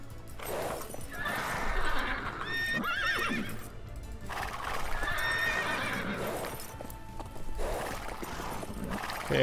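Horses in the strategy game Age of Empires 2 neigh again and again over steady hoofbeats, the whinnies arriving in loud waves between stretches of clopping.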